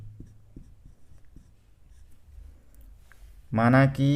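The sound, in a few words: writing a maths solution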